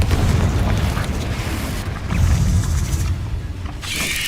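A Confringo blast spell in Hogwarts Legacy: a deep, rumbling explosive boom that swells and settles, followed by a second burst and a bright crackling tail near the end, loud and close, with no talking.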